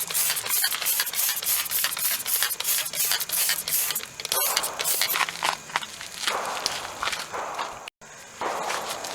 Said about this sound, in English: we're going to spray some degreaser on here now.